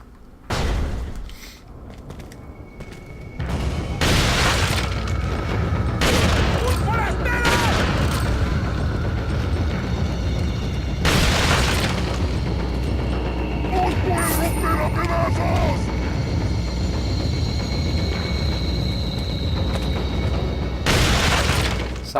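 Shotgun fire indoors in Resident Evil 4 Wii Edition: several heavy blasts stand out over continuous loud game noise and clatter, with a voice talking throughout.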